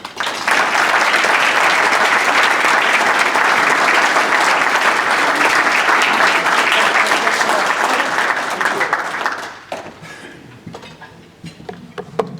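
A lecture audience applauds to welcome a speaker, with steady, dense clapping filling the room for about nine seconds before it tapers into scattered claps and murmuring.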